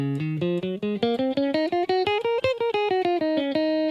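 A sequence of plucked electric guitar notes in a steady rhythm rises and then falls back down, played clean and alone at moderate volume.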